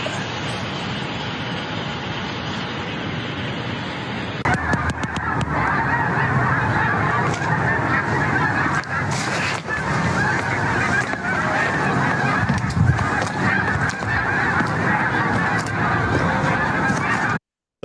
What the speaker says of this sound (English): those are Canadian honkers